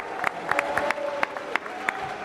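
An indoor event crowd claps and cheers with a steady wash of applause and scattered sharp claps; a faint booing tone runs beneath the noise, with some voices mixed in.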